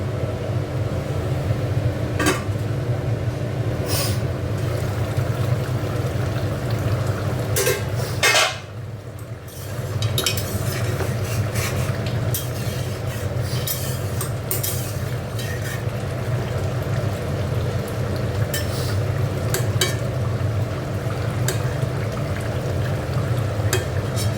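Steady frying sizzle from a pan of artangra fish curry as green chillies go in, loud and continuous with faint clinks of utensils and one brief dip midway.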